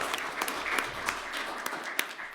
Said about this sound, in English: I want to give everyone another round of applause because you are truly amazing